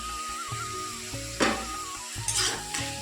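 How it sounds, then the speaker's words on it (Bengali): Mutton curry with ginger frying in a pan, a steady close sizzle broken by several louder scraping bursts as a spoon stirs through the pan, with no voices. "দেখো আদাটা ভাজা ভাজা হয়ে গেছে"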